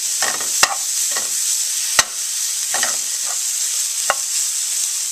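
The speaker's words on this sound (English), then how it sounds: "stir the hot dogs." A utensil scrapes and stirs hot dogs in a sizzling frying pan, with a few sharp clanks against the pan over a steady fry.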